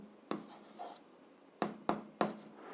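Pen strokes scratch across paper while solving an algebra exercise, several short sharp scribbles spaced apart in a quiet room, close and fairly soft.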